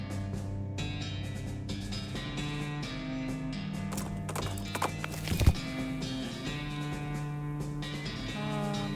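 Horse hooves clip-clopping in the western-themed video game West of Loathing, a steady patter mixed under continuous game music with a brief mechanical clatter midway.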